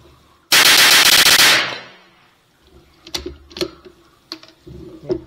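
Gunfire at an outdoor shooting range over 50 meters: one loud, close burst of rapid shots lasting about a second, followed by several fainter, sharp clicks and knocks.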